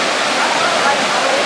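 Daringbadi waterfall in Odisha roars as a dense, continuous broadband rush of falling water, loud and close, with a voice speaking over it.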